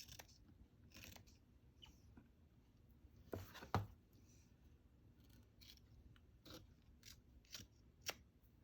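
Scissors trim paper for a journal in quiet, separate crisp snips, a handful of close cuts spaced irregularly across a few seconds.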